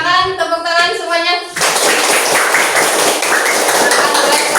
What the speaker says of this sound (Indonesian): Kita silakan tepuk tangan semuanya.